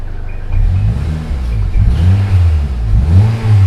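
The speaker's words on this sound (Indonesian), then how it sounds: "Knalpot sudah full system ini bosku. Suaranya brongnya brong halus," A 2010 Honda Civic FD with an automatic transmission and full-system exhaust revs, the low throaty rumble rising and falling in repeated surges, loud and close.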